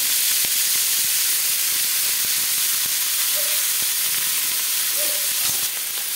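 Chopped onions frying in hot salted mustard oil make a loud, steady, steamy hiss that fills the whole stretch, with only a few faint clicks and brief tones over it.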